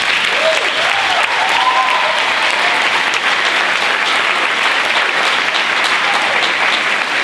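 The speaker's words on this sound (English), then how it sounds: "I think they deserve another round of applause" Loud, sustained applause from a large audience at a middle school band pops concert, dense clapping that holds steady throughout.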